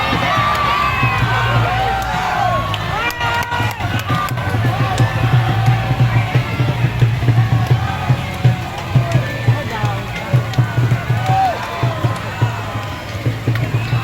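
A crowd cheers for the teams at the Peh Cun fair dragon boat race in Tangerang. Shouts and whoops ride over a continuous roar of outdoor crowd noise that stays fairly loud throughout.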